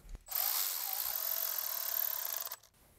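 A 10 mm tool snugs ignition coil bolts on a 2022-or-later VW Golf R, giving one steady, close mechanical whir of about two seconds that starts and stops sharply, with no talking.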